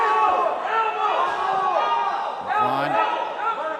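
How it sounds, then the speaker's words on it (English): A crowd at a SHOOTO 119 MMA fight yells and shouts from around the cage, loud and continuous, under a commentator talking over the action. "you can hear the crowd yelling elbow"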